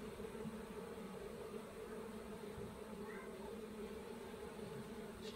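Honey bees hum steadily around hives during a spring inspection and transfer to clean hives, a constant low drone that holds at an even level throughout.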